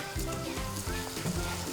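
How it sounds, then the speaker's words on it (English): Risotto rice frying in a pan with onion and garlic for a prawn risotto gives a loud, close, continuous sizzle with stirring and scraping noises, and no voices. "fry up your risotto into that onion and into that garlic"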